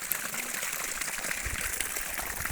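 Water sprays steadily from a solar-powered pump across a sugarcane field, a continuous broad rushing hiss with no break and no voices.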